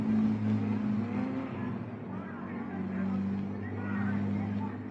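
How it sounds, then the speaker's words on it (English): Racing cars at the start of the 1961 Tour de France Auto, with a steady engine drone and rumble that stays fairly loud and holds through the clip, with faint crowd babble mixed in on an old film recording. "It's time for the first lap of the longest automobile race in the world."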